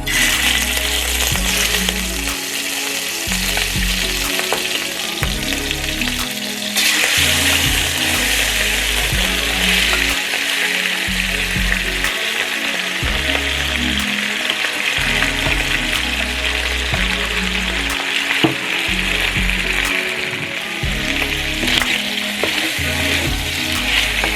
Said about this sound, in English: I have about 3 tablespoons of peanut oil heating up here, and I'm just going to go ahead and put my shrimp in